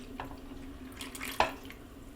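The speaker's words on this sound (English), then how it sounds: "here goes the water with the remnants of the treacle and malt." Water mixed with treacle and malt pours briefly into a bowl with soft splashing and a quick sharp splat partway through, fairly close and quiet.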